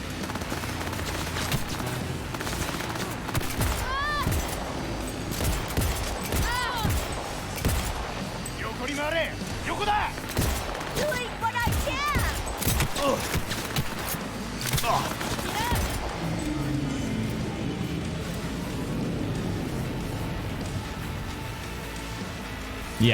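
Repeated pistol shots and other gunfire ring out in a Cyberpunk 2077 combat scene, irregular and fairly loud, with a voice talking over the action at times.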